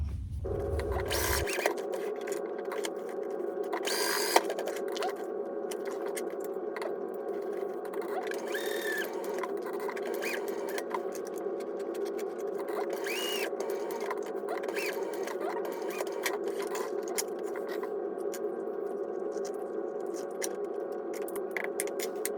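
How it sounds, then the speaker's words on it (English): Sewing machine stitching a tag and D-rings onto a crossbody bag, running in a steady, close, continuous whir with brief pauses and small clicks, no talking. "I'm gonna sew that on my tag and my D-rings"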